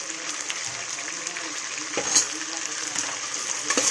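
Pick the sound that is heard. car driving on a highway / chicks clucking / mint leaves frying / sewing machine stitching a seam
mint leaves frying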